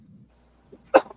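One sharp, explosive sneeze bursts out close by after a short stretch of faint murmuring and near silence.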